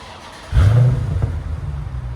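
A 2020 Dodge Challenger 1320 Edition with a 6.4L engine and its active exhaust turned off revs hard once, letting out a loud, close exhaust bark that settles into a steady, rumbling idle.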